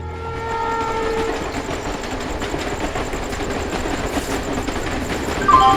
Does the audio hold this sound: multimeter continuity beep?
no